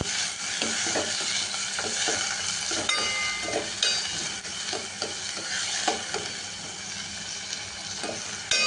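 Chopped green onions sauté in hot oil, making a dense, loud sizzle and hiss that fills the whole stretch, with repeated spatula scrapes and clatters close by and no one speaking.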